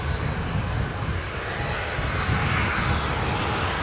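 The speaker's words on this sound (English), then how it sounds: "And now the departing Jet2 from Izmit." A Jet2 jet airliner departs Newcastle Airport with a loud, steady broadband engine roar that holds evenly throughout, with no voices.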